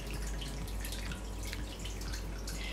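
Water drips and trickles steadily from an indoor decorative waterfall among houseplants, a soft, continuous splashing with no voices.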